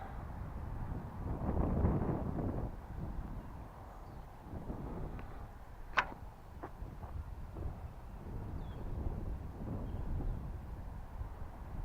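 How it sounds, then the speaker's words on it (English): Wind gusting outdoors while a cardboard stunt glider is flown, low rumbling buffeting on the microphone that rises and falls throughout, with one brief sharp click midway. "wind's a bit stronger now."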